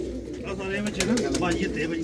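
Pigeons of prized breeds coo in low, rolling calls through the stretch, with overlapping birds close by and a voice partly mixed in.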